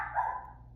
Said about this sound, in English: My dog's barking because she doesn't know I'm talking.